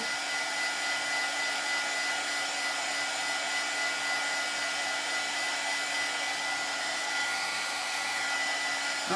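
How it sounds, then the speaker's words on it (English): A hair dryer blows steadily on a glue-gun craft project, a constant loud whooshing whine with a fixed motor hum, close and uninterrupted. "give this a blow dry"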